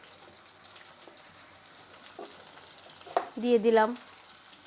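Garlic, onion and panch phoron hit hot oil in a pan, a faint background hiss that swells into a louder sizzle near the end, with a brief spoken phrase over it.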